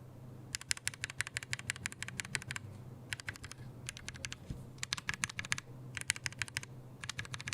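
Mechanical keyboard with lubed switches being typed on in quick clustered bursts of crisp key clacks, separated by short pauses, close up and fairly quiet.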